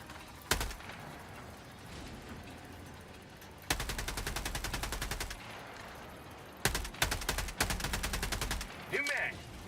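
Bursts of rapid rifle fire from a Liberator Concussive in the shooter game Helldivers 2, heard as three long volleys with short pauses between them, fairly close and sharp, plus a brief extra burst near the end.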